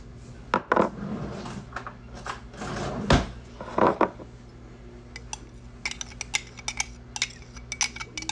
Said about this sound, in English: I'm gonna get a spoon.